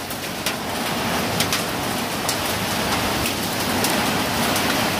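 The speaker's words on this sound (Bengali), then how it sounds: "পাশাপাশি শিলাবৃষ্টি হচ্ছে।" Heavy rain pours steadily during a violent storm with hail, a dense continuous roar with scattered sharp impacts throughout and no voices.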